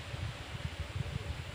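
Strong wind buffets the microphone in rumbling, uneven low gusts with a broad rushing hiss, close and fairly loud throughout the short stretch, with no talking.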